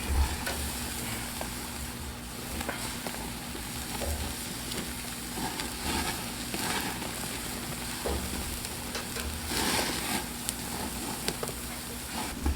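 Onions, jalapenos and other vegetables sizzle loudly and steadily on a grill next to skirt steak for carne asada, with occasional scraping and clatter over the constant frying hiss.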